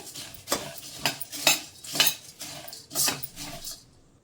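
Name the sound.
stirring and frying puffed rice (puri) in a pan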